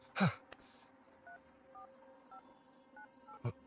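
A telephone keypad dialed during a call scene in a Hindi-dubbed comedy film: a string of short, evenly spaced electronic beeps, each tone distinct and clear, framed by a couple of louder thumps at the start and end.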